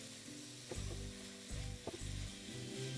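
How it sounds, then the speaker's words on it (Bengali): Three thinly sliced onions fry in oil over a medium flame, giving a steady close sizzle with soft scraping stirs at intervals and no voices. "আমি এখানে 3টে পেঁয়াজকে পাতলা করে স্লাইস করে কেটে নিয়েছি, যেটাকে আপনাদের ফ্লেমটাকে মিডিয়াম করে ভালো করে ভেজে নিতে হবে।"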